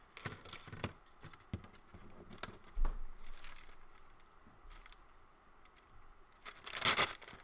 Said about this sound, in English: And I'm going to tear this off.